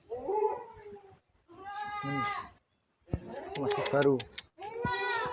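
Half-month-old PE goat kids bleat in a farm goat pen, giving four loud, close, wavering cries separated by short pauses, while a person speaks briefly nearby.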